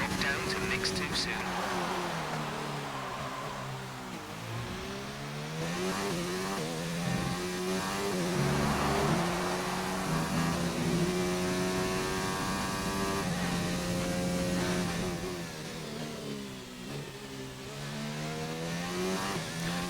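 An F1 race car engine in F1 2019 revs and pulls through the gears, with rising and falling harmonic sweeps at steady loudness for the whole stretch, a voice speaking over it.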